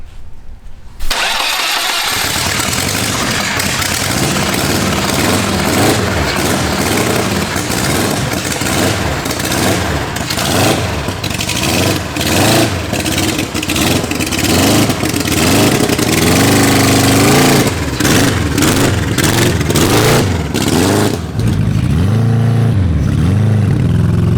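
A supercharged four-cylinder engine fitted to a motorized wheelbarrow is started, then runs loud and close through a test ride at a drag strip mini bike event, revving up and down in repeated surges with no talk.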